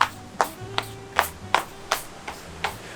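Rubber flip-flops slapping against the ground in a steady walking rhythm at a Bali bamboo bungalow, eight crisp smacks about every half second, close by with no talk.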